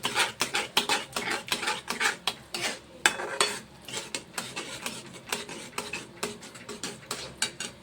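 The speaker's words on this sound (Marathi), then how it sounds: "मिक्स करून घेऊया" A spoon stirs yogurt into a matar paneer mixture in a pan, giving a steady run of close, soft scraping and clinking strokes in a brisk rhythm with no talk.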